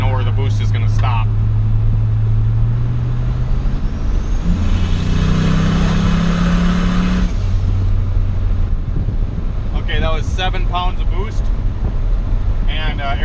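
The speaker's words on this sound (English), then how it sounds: "I'll get it up, slowly just walk into the throttle until I know where the boost is going to stop." A turbocharged Chevrolet Silverado pickup accelerates in second gear with the throttle eased in as boost builds, a loud, rising engine drone with whooshing turbo noise, then a gear change; someone talks briefly at the start and again near the end.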